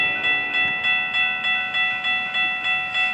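A southbound Brightline passenger train in Melbourne, Florida sounds loud at a crossing: a sustained bright chord with regular rhythmic pulses, likely a crossing bell or horn, over a low rumble.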